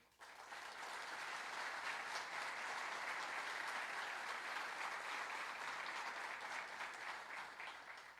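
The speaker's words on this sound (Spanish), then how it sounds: "quien pido un fuerte aplauso" Applause for the author at a book launch at the Casa de la Cultura in Azogues, Ecuador, a full, even roar of many hands that swells in quickly, holds steady and thins slightly at the end, fairly distant and soft.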